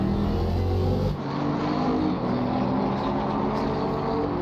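McLaren and Mercedes GT4 race cars at Circuit of the Americas, engines droning loud and steady as they run close together, a sustained roar with shifting pitch and no voices.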